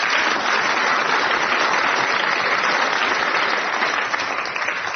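A studio audience at a radio quiz show applauds a winning contestant, a full, steady burst of clapping that holds evenly and eases off near the end.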